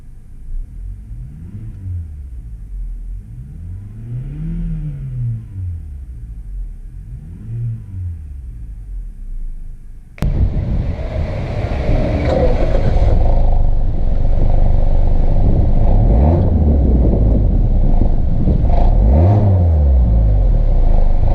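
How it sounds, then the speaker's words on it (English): A 2017 Mazda CX-5 engine revs up and down in repeated rising and falling sweeps, then jumps to a louder, rougher roar with further revs near the end. "I'm going to rev it up just so we can hear how it sounds"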